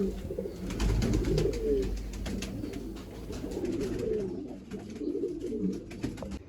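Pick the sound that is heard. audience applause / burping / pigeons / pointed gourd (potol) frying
pigeons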